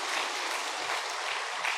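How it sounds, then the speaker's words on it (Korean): Church congregation claps together in thanks during a worship service, a steady, even roar of many hands at moderate volume with no pauses. "우리 감사의 박수로 우리 영광 올려드리도록 하겠습니다"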